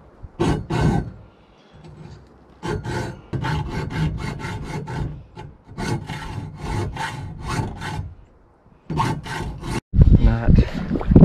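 Hand filing on a workpiece during electrical panel installation on a homestead, heard as bursts of rhythmic rasping strokes in several runs separated by short pauses, fairly close and loud.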